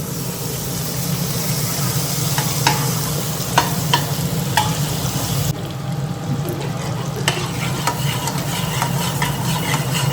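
Chicken pieces fry in butter in a pan for Japan chicken, a constant close sizzle broken by scattered sharp clicks and taps, with no talking over it.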